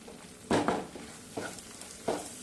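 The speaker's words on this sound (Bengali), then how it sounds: "এবার লাল লঙ্কা গোলমরিচ দিয়ে ভালো করে মিশিয়ে নেব" Spices being stirred into a paneer curry in a pan: three close, scraping stirs over a low, steady sizzle, no voices.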